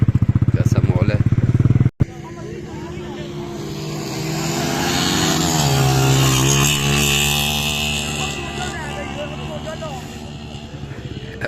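At a motorcycle rally in the Cholistan desert, a motorcycle engine rumbles up close, then revs and swells loudly before easing off, with crowd noise and someone talking throughout.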